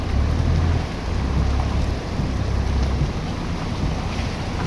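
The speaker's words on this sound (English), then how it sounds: "I always wanted to see during this type of heavy rain." Heavy rain pours steadily during a flood beside washed-out Highway 1 near Hope, with a dense, loud hiss and a deep rumbling undertone throughout, and no voices.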